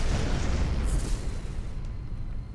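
Incoming missiles blow up in space combat in the game Rebel Galaxy, making a loud, continuous roaring blast that fills the clip and tapers slightly at the end.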